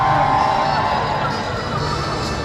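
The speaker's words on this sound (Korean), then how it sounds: "사람들의 환호가 터져 나옵니다" Crowd cheering at a night rally on the Seoul City Hall plaza, a loud, continuous roar of many voices shouting and whooping close by, with no distinct words.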